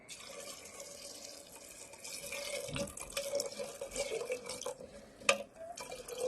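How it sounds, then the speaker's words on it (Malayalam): Water pours steadily into a pot of yam curry, a soft continuous splashing stream with occasional louder splashes and no talking. "ഇനി നമുക്ക് ആവശ്യമുള്ള വെള്ളം ഒഴിച്ചു കൊടുക്കാം"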